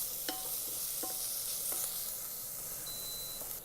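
Onion sizzles and fries in an Instant Pot as it is stirred, making a constant bright crackle broken by a few scraping stir strokes and a short electronic beep near the end.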